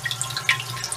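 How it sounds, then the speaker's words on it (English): Nutrient solution drips from a hose into a hydroponic barrel in a flow-to-waste setup, a rapid patter of small, close water drops and trickles over a low, steady hum, with no talking. "you can hear it dripping right now"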